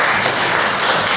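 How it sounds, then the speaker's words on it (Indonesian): A class of students breaks into dense, continuous applause, with many hands clapping at once in a loud, close wash of sound. "Ya, tepuk tangan untuk teman kita."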